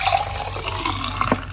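A homemade detox drink is poured out of a container, producing a short, close, steady splash of liquid.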